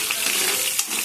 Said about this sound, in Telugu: సాయిపప్పు, ఆవాలు, జీలకర్ర, ఎండుమిర్చి, వెల్లుల్లి అన్నీ పెట్టుకోవాలి.